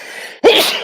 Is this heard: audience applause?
no